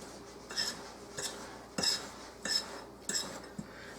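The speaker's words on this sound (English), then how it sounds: "So I'm just going to mix this all in real good." A spoon scrapes and taps against a bowl while no-bake cherry cheesecake filling is mixed, about six evenly spaced strokes close by with no talking.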